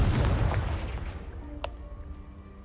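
A Confringo spell explosion blasts apart a pile of debris in the Hogwarts Legacy video game, a loud booming burst that decays over a couple of seconds with no talk.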